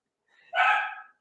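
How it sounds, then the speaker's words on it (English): A single short dog bark from a pet somewhere in the room, moderately loud and sounding alone with no talk over it. "If you can hear my dog in the background."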